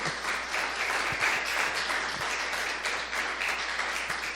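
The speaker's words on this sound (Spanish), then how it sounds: "Denle un aplauso a Jesucristo siquiera." Dense, sustained applause fills a church service hall, many hands clapping together in a steady wash of sound that stays full and even from start to finish, with no speech over it.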